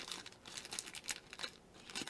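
Crinkly plastic packaging from a yarn haul being cut open with cheap, worn scissors, giving a close run of crackling crinkles and snips that come in uneven bursts with no speech.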